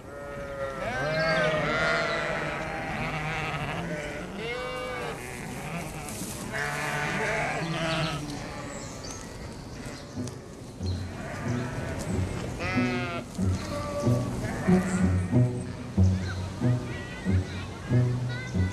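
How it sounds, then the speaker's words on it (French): A flock of sheep grazes the lawns of a historic German landscape garden, bleating repeatedly and overlapping near and far over a steady outdoor background, with some murmuring voices mixed in. "nous avons aussi un troupeau de moutons"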